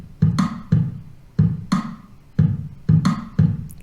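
Looped drum kit playback in Logic: a simple beat of punchy kick and snare hits repeating in an even, regular pattern, clear and dry with no other sounds.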